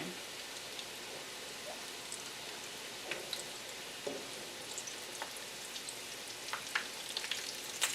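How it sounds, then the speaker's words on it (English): Taco rice balls fry in hot oil with a faint, steady crackling sizzle and scattered small pops, low in level and continuous. "as the oil gets very hot and everything's cooking well"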